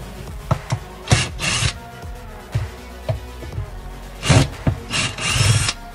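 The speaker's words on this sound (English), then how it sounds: "using again this drill bit." Bursts of a power drill whirring and grinding as it removes screws from a dishwasher, several short runs separated by pauses, close by.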